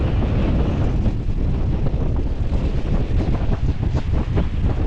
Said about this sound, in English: And it's super windy right now.